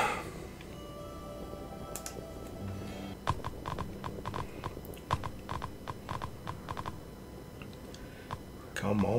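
Horse hooves clatter in the mobile survival game Westland Survival, a run of sharp, fairly close clip-clop strikes over quiet ambient game sound, with a voice talking briefly.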